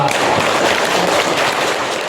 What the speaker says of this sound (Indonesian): mari tepuk tangan untuk kita semua